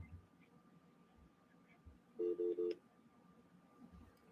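A telephone keypad sends three quick, evenly spaced dialing beeps over faint background hiss, with soft low noise around them.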